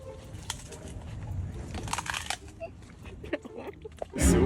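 A pet bird coos softly among rustling and scratching, ending in a sudden loud crunch.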